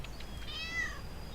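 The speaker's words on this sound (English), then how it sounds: "That cat could easily jump down from there, it's just being lazy." A cat in the Lego City Undercover video game gives a single short, fairly faint meow over quiet background ambience.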